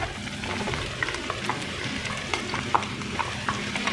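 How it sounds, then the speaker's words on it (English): Roughly chopped onions frying with black cardamom and green chilies in a pan: continuous crackling sizzle with scattered pops and occasional stirring taps, close and steady, no talk. "I will now add the roughly chopped onions"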